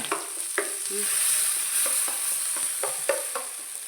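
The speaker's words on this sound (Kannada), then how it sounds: "ಒಂದು ಅರ್ಧ ಈರುಳ್ಳಿ ಮತ್ತು ಗ್ಯಾಸ್ಟ್ರಿಕ್ಕಿಗೆ ಅಂತ ಹೇಳಿದರು ನಾನು ಇದು ಶುಂಠಿ ಅದನ್ನು ಎಲ್ಲವನ್ನು ಒಮ್ಮೆ ಫ್ರೈ ಮಾಡಿಕೊಡುವ" Onion and ginger fry in a pan with a soft, steady sizzle, broken by scattered stirring scrapes and clicks of a utensil. The sound stays close and moderately quiet, and nobody speaks.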